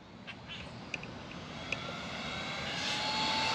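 A Castle Cobra 5 ESC in a 1/7-scale RC truck on 3S at full throttle makes a steady high-pitched electric whine that builds in loudness as it passes, with a couple of sharp clicks and no voices.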